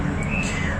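A long-tailed shrike, injured but still singing, gives a short, clear chirping call close by, with a faint rising whistle over background noise.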